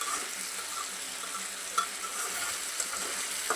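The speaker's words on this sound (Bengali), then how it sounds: "এখানে মুরগির বুকের মাংস দিচ্ছি, গাজর আর আলু একসাথে ভাজিয়ে নিতেছি" Chicken breast pieces, carrot and potato sizzle in a pan while being stirred, a constant bright frying hiss with a few soft scraping knocks from the stirring, no one speaking.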